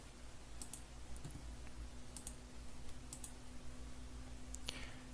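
A computer mouse clicks while someone edits in Photoshop: a handful of faint, sparse clicks spaced a second or so apart over a steady low hum.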